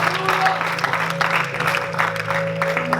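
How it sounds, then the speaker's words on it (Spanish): A church congregation applauds, a dense wash of clapping layered over sustained tonal music, with voices mixed in. "Un aplauso al Rey de Reyes y Señor de Señores."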